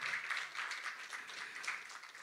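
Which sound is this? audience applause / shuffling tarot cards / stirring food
audience applause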